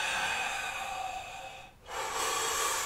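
Deep breaths during a yoga session: a long, steady airy inhale, a brief pause, then another breath begins, close and alone without talk.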